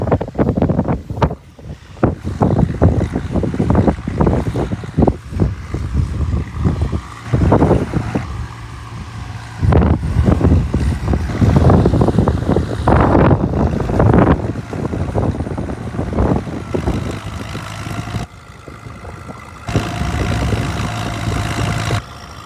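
Strong gusty wind buffeting the microphone outdoors during field discing with an Oliver Super 66 tractor, roaring and rumbling in uneven surges throughout, with no talking.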